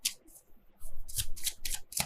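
Tarot cards being shuffled by hand, a run of quick crisp riffling bursts that grow louder and denser toward the end, close and alone with no talk.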